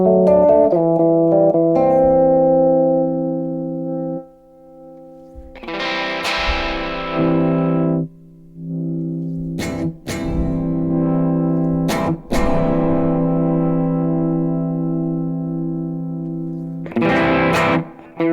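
Electric guitar run through the filter effect of a Teenage Engineering EP-133 KO II turned fully up, sustained chords swelling and sweeping with bright resonant bursts, several strums separated by short gaps, loud and close with no talking.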